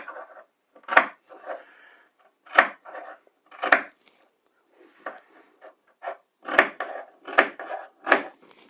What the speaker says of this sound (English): And I'm clipping about every 1/2 inch to 5/8 or so,